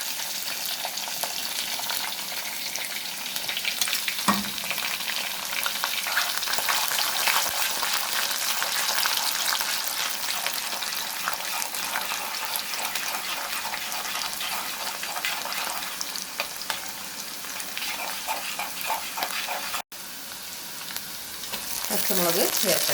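Garlic frying in oil for a homemade pickle, with ginger already in the pan: a dense, continuous close sizzle with crackling bursts throughout and a brief stir near the end.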